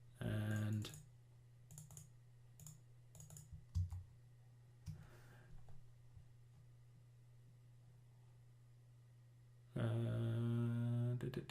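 Typing on a computer keyboard: scattered soft key clicks and taps in short irregular bursts, quiet and close, between stretches of a person speaking at the start and end.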